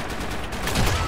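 Shotgun fire in the competitive shooter Blackshot, a dense burst of gunfire that swells louder near the end of a short, busy stretch of game noise.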